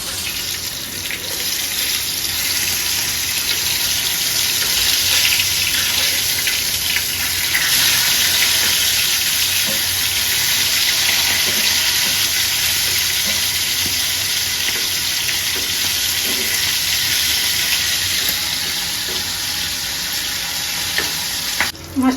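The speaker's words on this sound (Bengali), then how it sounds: "মাছটা ভাজা হয়ে গেছে" Hilsa fish sizzling steadily in hot oil in a village kitchen, a continuous loud hiss with occasional pops and faint clatter throughout.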